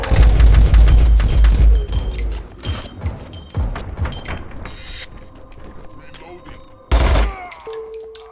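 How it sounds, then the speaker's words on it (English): Rapid submachine gun fire in the video game RICO crackles in dense bursts, trailing off into scattered shots and clinks, then one more short loud burst near the end. "Love this submachine gun."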